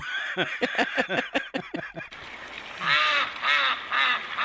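A duck-like bird quacks in a fast run of about eight sharp, nasal calls, then lets out a few longer, louder honking squawks, all close and alone with no talk.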